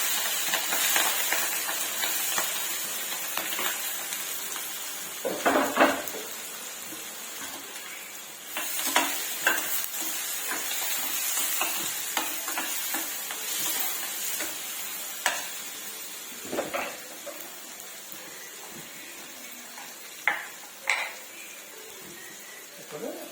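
Onion and green chillies frying in a pan seasoned with mustard seeds and turmeric, a steady sizzle and hiss with repeated scraping stirs and pan knocks, some faint murmur of voice in places.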